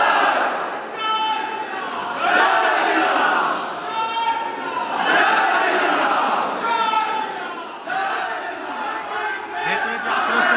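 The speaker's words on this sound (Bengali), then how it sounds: "গেরুয়া আবির এবং সঙ্গে জয় শ্রীরাম স্লোগান" Crowd of government employees at the Nabanna state secretariat chanting the 'Jai Shri Ram' slogan during a celebration, a loud, continuous rhythmic chant of many voices with a reporter talking over it.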